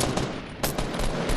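Automatic gunfire in Fortnite Battle Royale, a rapid close burst of shots with a sharper crack partway through, loud and dense with no talk.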